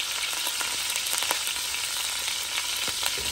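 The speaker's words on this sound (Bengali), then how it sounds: "যেভাবে তেলগুলো ফুটছে" Cauliflower pieces deep-frying in hot oil for a second fry, with a steady close sizzle and bubbling crackle that runs throughout, with no talk.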